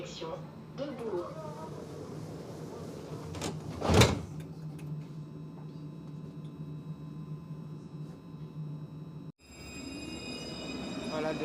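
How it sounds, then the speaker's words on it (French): A Lyon TCL tramway T1 tram pulls away with a low rumble and a sharp clunk partway through, then a rising electric motor whine, while voices talk in the background. "Voilà le départ de notre tram"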